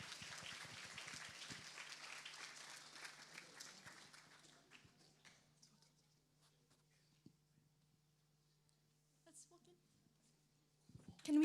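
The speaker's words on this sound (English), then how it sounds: "Clapping is definitely in order." A conference audience at a model UN opening ceremony applauds briskly for a few seconds, then the clapping thins and fades into near quiet with faint scattered noises and a brief sound at the end.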